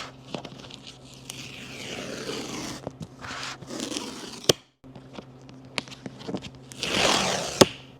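Seal tabs torn on an Apple Vision Pro box, close papery ripping and scraping with sharp clicks and pulls in bursts, a brief pause midway, then a final louder tear.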